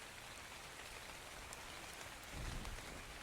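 Steady rain falling in the ARK video game, a dense, even hiss that fills the whole stretch, with a slightly heavier low rumble near the end.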